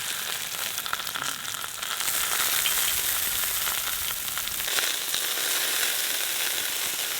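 Capsicum frying in hot oil, a steady, loud broadband sizzle and crackle that continues without a break, with no talking.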